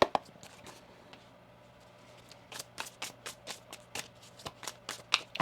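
Tarot cards shuffled by hand, a quiet stretch followed by a run of crisp, close riffling slaps growing more rhythmic toward the end.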